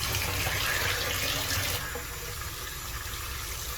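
Running water gushes loudly from a tap, then eases to a softer steady flow as muddy car parts are rinsed, no voices.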